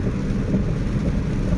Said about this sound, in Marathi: पाऊस चालू आहे छान असा